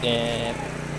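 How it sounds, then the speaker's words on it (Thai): A 10.5-bar pesticide sprayer pump runs normally, giving a steady motorised hum with a tonal whine that drops off slightly after the first half-second; the burst is brief and nearby. "เสียงปั๊มทำงานปกติแล้วครับ"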